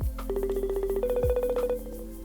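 A telephone rings through the line on an outgoing call: a repeating electronic ringback tone pulses rapidly, then shifts pitch midway, clear and steady with no talk over it.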